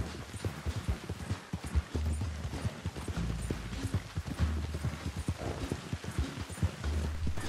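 Steady clip-clop of horse hooves at a brisk pace, rhythmic and fairly close, over a background of low rumbling game sounds.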